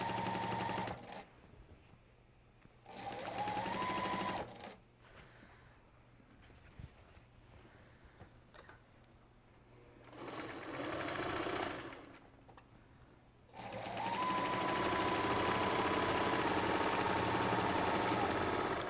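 A sewing machine stitches quilt fabric pieces in several bursts, short runs at first and then a longer sustained run at the end, the motor whirring close with quiet pauses between.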